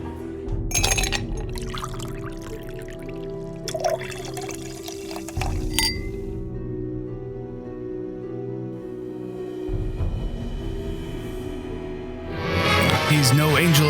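Blackberry brandy, lime and club soda are poured into a glass for a Black Angel cocktail, with splashing and fizzing liquid amid clinking glass and background music.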